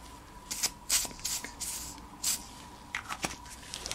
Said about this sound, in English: Take a little bit of silicone spray.